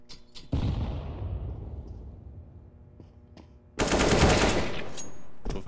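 Bursts of automatic gunfire in Counter-Strike: Global Offensive: a short burst, a loud sustained volley lasting over a second, a few isolated shots, then another heavy barrage that rings on to the end, with no talk.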